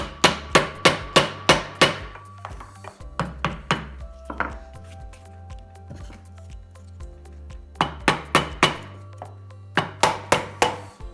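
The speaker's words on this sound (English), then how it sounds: "just use a block of wood and a hammer and just gently tap it back on place" Sharp hammer taps on a block of wood in quick bursts of four to six strikes, separated by short pauses and some softer knocks and metallic clinks, while fitting a fixed-gear bicycle adaptor.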